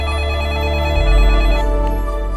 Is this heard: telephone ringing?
yes